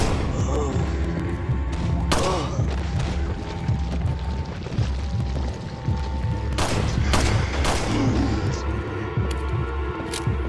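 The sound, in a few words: rifle shots in video game Resident Evil 4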